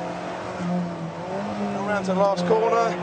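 A car on a test track accelerating flat out through a left-hand corner, engine tones rising and shifting through gears close up, with someone talking over the engine.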